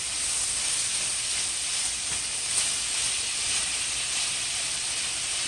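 Chicken and bitter melon stir fry sizzles on a stove as an even, continuous hiss, close and fairly loud, without talk.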